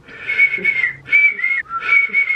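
A person whistles a short wavering tune in three bursts, close and clear, with brief pauses between phrases and no talking.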